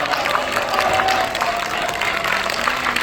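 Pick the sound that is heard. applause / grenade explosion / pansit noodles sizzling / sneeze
applause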